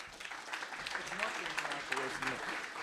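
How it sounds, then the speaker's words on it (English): A summit audience claps warmly for the International Rescue Committee, applause building gradually with a speaking voice running over it throughout. "So please give them a warm round of applause."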